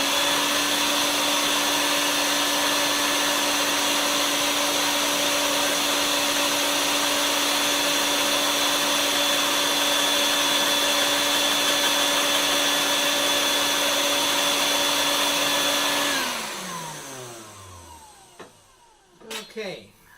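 A cocoa bean winnowing machine with vacuum suction runs loud and steady with a whining hum, then winds down and cuts out, followed by a few faint knocks.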